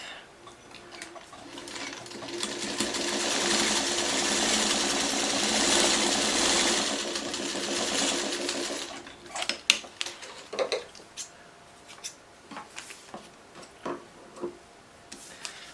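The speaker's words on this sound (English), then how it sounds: "I'm going to run this from here to here, and I'm going to get her all sewn up" A sewing machine runs a continuous stitching burst along a foundation paper piecing seam, steady and fairly close for about nine seconds, then stops, followed by scattered light clicks and handling taps of fabric and paper.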